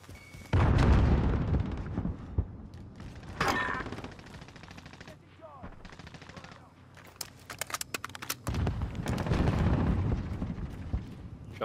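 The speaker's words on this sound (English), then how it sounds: "Grenade out." A grenade explosion and heavy gunfire in the online shooter Call of Duty Warzone, with bursts and booms that come and go in waves, along with faint talk from players.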